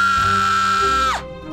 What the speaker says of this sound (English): an ear-piercing scream woke up the entire town